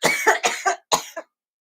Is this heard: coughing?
yes